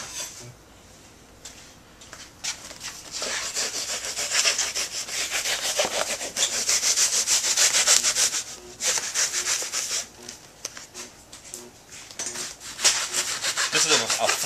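Foam gun prop being trimmed down by hand, a steady rasping, sawing scrape that grows louder after the first few seconds and runs in uneven strokes with brief pauses, close and alone.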